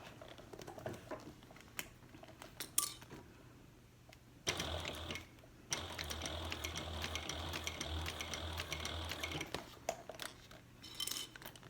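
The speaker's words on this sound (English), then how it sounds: "I'm sewing." A sewing machine fitted with an edge foot topstitches along the edge of a handbag. Bursts of fast, even mechanical whirring and clatter run for several seconds at a time between pauses and a faint steady hum, with no voices.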